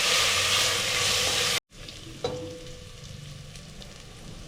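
Ginger garlic paste fries in a pan over a medium flame: a loud, close, hissing sizzle that cuts off sharply after about a second and a half, then returns as a quieter, steadier sizzle with a brief clink.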